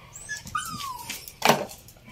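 A pet dog whimpers in a thin, high, drawn-out whine, followed by a louder sharp yelp, close by against a quiet room.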